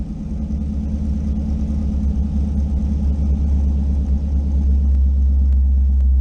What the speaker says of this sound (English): The cold start on this thing is great,